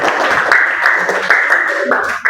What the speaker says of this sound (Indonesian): Nah, boleh tepuk tangan.